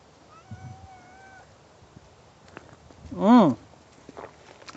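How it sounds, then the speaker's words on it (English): A single short cat meow sounds near the end, close and clear, after quiet background noise and a few faint soft thumps. "we got our farm kitty here"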